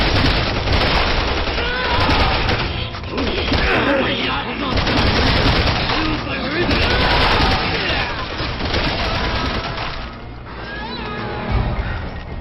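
Dense, continuous gunfire in Resident Evil 6 fills the scene, with rapid automatic bursts, heavy booms and mechanical clatter layered over one another at full loudness with no letup.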